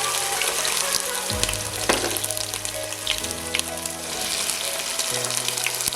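Onions with ginger garlic paste frying in a pan, a steady dense sizzle throughout with occasional scraping stirs, close and fairly loud, no talking.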